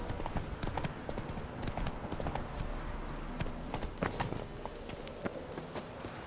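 Horse galloping under a rider in the video game The Witcher 3, with rhythmic, continuous hoofbeats thudding close and steady throughout.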